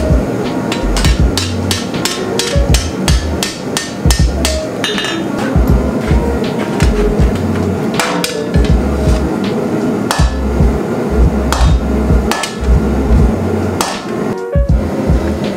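Rapid, loud metallic hammer blows on a bent steel sword blade struck edge on, ringing sharply in quick bursts with brief pauses between runs of strikes, close up.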